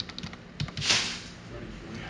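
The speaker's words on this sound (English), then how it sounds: "You can also use the square brackets on the keyboard" A few quick key clicks on a computer keyboard, pressing the square bracket keys to resize a brush in Mudbox 3D sculpting software. The taps are close and fairly soft, with one slightly louder press, over a quiet background.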